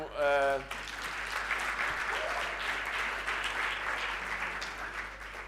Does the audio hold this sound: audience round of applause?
yes